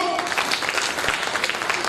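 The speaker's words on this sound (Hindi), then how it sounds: "एक बार MI हक की तरफ से तालियां हो जाए।" Applause from an audience at a teachers' training college function, a short burst of dense clapping with voices mixed in.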